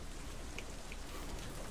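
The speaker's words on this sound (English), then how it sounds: "It suddenly started raining a lot." Heavy rain falling in the zombie video game Deadlight, a dense continuous hiss of downpour with scattered brighter drop hits, steady and moderately quiet with no voices.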